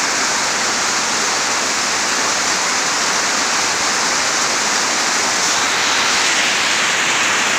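Heavy rain pouring steadily in the Philippines, a dense, loud, unbroken hiss that holds at the same level from start to finish with no voices over it.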